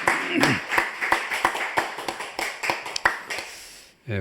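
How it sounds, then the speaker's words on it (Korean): A church congregation at a Sunday afternoon service claps in quick, fairly even beats, close and lively, with voices mixed in before a brief low tone at the end. "우리 하나님께 영광의 박수 올려드리겠습니다."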